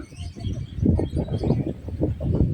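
Pigeons gathered at a resort swimming pool in Pugo, La Union give repeated low, throaty coos that overlap one another nearby, forming a steady, murmuring chorus throughout.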